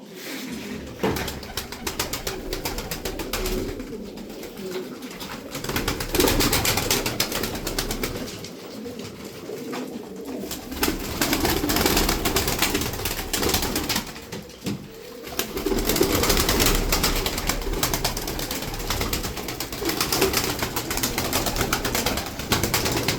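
Tumbler pigeons, a breed of performing birds, coo steadily and loudly at close range, with layered bird calls and occasional wing flutters in a busy loft, continuous and without talk.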